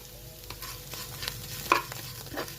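Leaves frying and being stirred in a pan for a chutney, with soft sizzling and scraping strokes of the spoon, close and fairly quiet, no voices.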